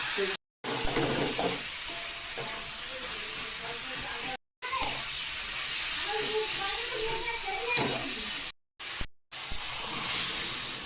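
Taro (kochu) greens being fried and stirred in a pan before dal is added, a hissing sizzle broken by short abrupt cuts, with murmuring voices audible in the background.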